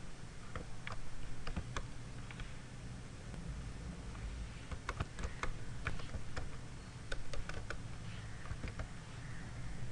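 Rapid clicking of computer keys as field names are typed for an SQL table, steady irregular bursts of keystrokes close up over a low room hum.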